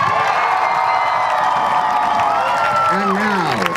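A high school performance audience cheering and shouting for a favorite act, a loud sustained roar of voices with whoops rising near the end.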